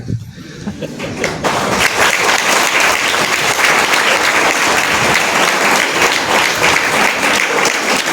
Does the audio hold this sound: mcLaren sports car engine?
no